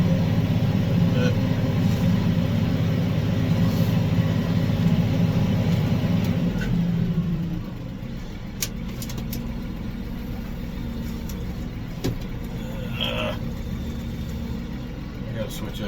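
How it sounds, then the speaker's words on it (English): A Massey 4707 tractor engine hums steadily while pulling a chisel plow through a field, holding a loud, even drone before dropping to a quieter running note partway through, with a few brief clicks. "That chisel plow really gets down in there and brings some dirt up."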